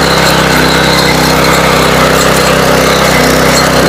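A mini power tiller, a small walk-behind power weeder, runs steadily while tilling soil, its loud, continuous engine drone holding close and even throughout.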